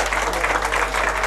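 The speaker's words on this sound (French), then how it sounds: "Un tonnerre d'applaudissements pour Sébastien." Thunderous applause from a crowd at a gaming team selection event, a dense, loud, continuous clapping wash throughout the short moment.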